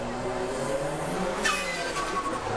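A turbocharged car with a big hood scoop, an STI wing and a front-mounted intercooler drives hard on a road in Sri Lanka. Engine and tire noise run throughout, broken midway by a sudden sharp whoosh from the blow-off valve venting.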